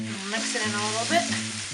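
Daiya vegan cheese being stirred into a tomato-paste mixture in a frying pan, with a steady sizzle and scraping spoon strokes running continuously close by.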